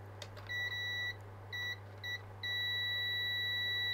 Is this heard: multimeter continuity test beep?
yes